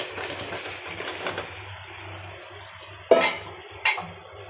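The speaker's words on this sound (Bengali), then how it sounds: "লাড়াচাড়া দিয়ে দিই।" Spoon stirring bottle gourd and eggplant with dried fish in a cooking pot, soft scraping and shuffling followed by two sharp metallic clinks against the pot, close and fairly quiet.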